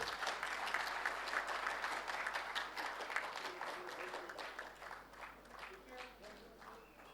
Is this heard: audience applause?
yes